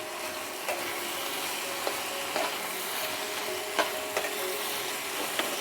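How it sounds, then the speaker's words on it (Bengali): Garlic prawns with fresh coriander stirred in a pan, a constant frying sizzle with occasional light spatula taps and scrapes against the pan. "দিয়ে একটু নাড়িয়ে চাড়িয়ে নেব।"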